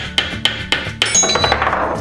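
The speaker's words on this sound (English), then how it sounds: "Let's hammer all three balls through this one hole so we can hear the music." A plastic toy hammer pounds balls through a hole in a ball-pounding toy: four sharp, loud knocks in a quick rhythm, followed by a bright chiming melody as the balls drop through.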